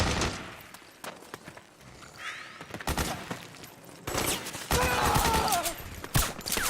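Soldiers exchange gunfire in the stealth action game Metal Gear Solid 4: Guns of the Patriots, with scattered distant shots building into dense, loud bursts of rapid fire and booms near the end.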